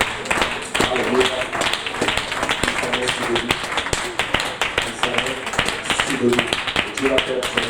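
Church congregation clapping rhythmically in praise of the Lord, sharp steady hand claps mixed with voices throughout, fairly close and lively.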